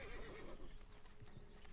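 Horse neighing in Red Dead Redemption 2, a steady whinny with clip-clop hoofbeats mixed into dense game ambience, moderately loud throughout the short stretch.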